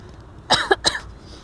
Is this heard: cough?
yes